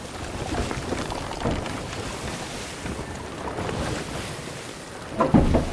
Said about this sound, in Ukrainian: Зараз парус набирається вітром.